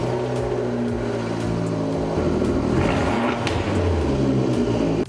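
A Fiat Abarth car engine drones steadily while driving, a loud, continuous rumble with slowly shifting pitch as it pulls along.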